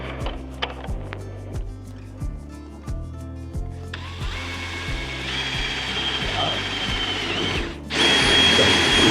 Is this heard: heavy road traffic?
no